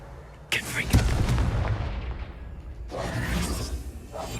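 The Confringo fire spell goes off in a video game as two sharp, booming blasts. Each has a crackling, whooshing tail that rings out over a steady game background.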